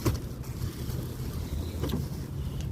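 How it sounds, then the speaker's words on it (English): Wind blows outdoors in gusty, rushing waves against the microphone, a fairly quiet steady buffeting with brief louder swells and no talking. "The wind is blowing."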